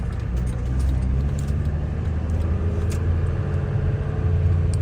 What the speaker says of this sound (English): Gotta love the morning traffic